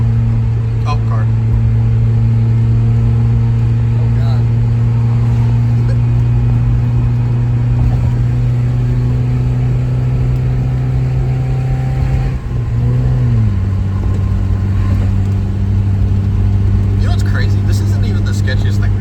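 A Mazda Miata drives at night with a steady, loud mid-pitched engine drone that dips briefly as the revs shift, heard from inside the car with faint talk at moments.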